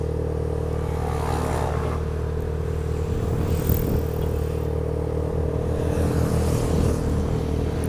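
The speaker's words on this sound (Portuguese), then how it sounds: "Ó, uma moto dois tempos." A two-stroke motorcycle idles nearby in city-centre traffic while stopped at a light: a steady low engine rumble with a rattling clatter, and other vehicles churning in the background.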